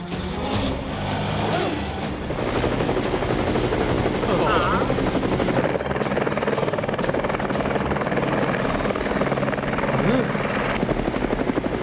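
A cartoon helicopter flies close by in the animated Motu Patlu: Dino Invasion adventure, its rotor beating in a loud, continuous whirring drone that persists throughout, with voices briefly heard over it.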